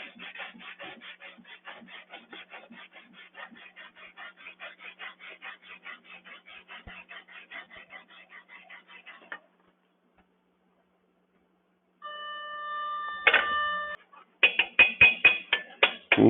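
Slag being chipped and scraped off a stick (SMAW) weld: a long run of rapid, faint rhythmic scraping ticks, a pause, then sharper ringing metallic clinks and taps.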